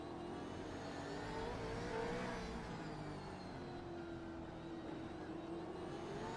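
A V8 race car engine in a sim racing video game revs steadily at the Adelaide street circuit, a continuous engine drone with rising and falling pitch as the throttle is worked, at moderate, even volume throughout.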